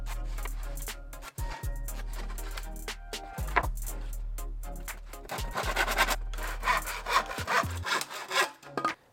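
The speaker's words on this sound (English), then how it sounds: "we're going to cut a bunch of 15-inch wide stringers" Wood stringers for a roof top tent cart being cut with a hand saw, a series of close, rhythmic rasping strokes with short pauses between them, loud and alone.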